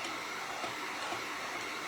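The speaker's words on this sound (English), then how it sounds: "I use a heat gun" A steady, even whoosh of blowing air from a heat gun, constant and fairly close, with no pauses or talking.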